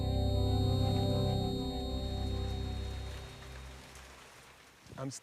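Rain falls steadily on a field in Poland, a dense close hiss over a low rumble that fades gradually and ends with a brief louder patter.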